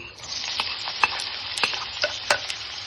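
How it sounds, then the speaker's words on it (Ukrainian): Diced onion frying in hot oil in a pan while being stirred: a steady close sizzle with repeated scraping stirs and small crackles, no talk. "Помішуючи, смажимо до прозорості цибулі."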